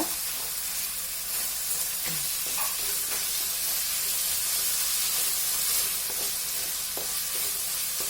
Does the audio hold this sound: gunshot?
no